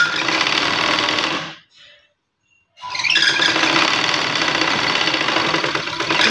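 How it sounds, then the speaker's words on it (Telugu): A sewing machine runs a double stitch on a blouse, a loud fast mechanical whirr that stops abruptly for about a second of silence, then resumes at full speed and runs steadily to the end. "ఇలా డబల్ స్టిచ్ అనేది compulsory friends, double stitch compulsory వేసుకోవాలి"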